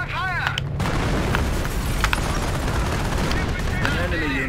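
Heavy bursts of gunfire crackle in Company of Heroes: Opposing Fronts, a dense, loud battlefield din of rapid shots that runs without pause, with voices mixed in.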